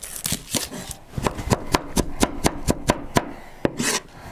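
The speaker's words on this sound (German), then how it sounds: "Wir werden unsere Zwiebel klein würfeln." An onion is diced with a knife on a board for a Dutch-oven goulash, giving a steady run of about a dozen crisp, close chops at an even rhythm, with no talking.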